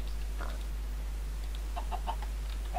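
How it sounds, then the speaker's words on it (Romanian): Minecraft chicken clucking in the video game, a handful of short, fairly faint clucks scattered over a steady low hum. "chicken"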